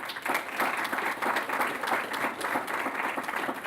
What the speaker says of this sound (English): So you should give yourselves a big round of applause.